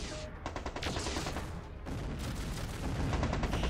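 Dense, continuous weapons fire from battling mechs in the video game MechCommander 2, with rapid overlapping bursts and cannon shots going on steadily throughout at an even, moderately loud level.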